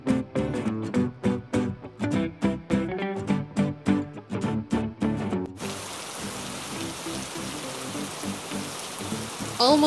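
Steady pouring rain on a Tuesday afternoon hisses continuously in the second half, following a stretch of rhythmic music.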